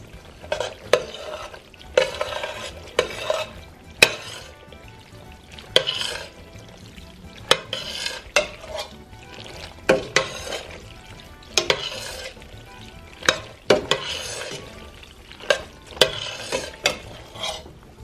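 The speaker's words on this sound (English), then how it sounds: "now I'm going to add sauce to the pasta. And we're going to mix this together" Drained pasta being stirred with sauce in a cooking pot, repeated wet squelching and scraping strokes in irregular bursts, close and alone.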